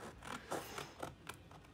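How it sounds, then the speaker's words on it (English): Small Mini Snips scissors slicing through folded paper, a few quick close snips and rustling strokes at a steady pace, fairly quiet with no talking. "my Mini Snips are always handy, so I'm just gonna cut on one line here"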